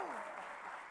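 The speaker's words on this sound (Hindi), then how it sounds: "जोरदार ताली फॉर मोहम्मद शामी।" A studio audience gives a burst of applause for cricketer Mohammed Shami, a short, faint wash of clapping with a voice briefly heard at the start.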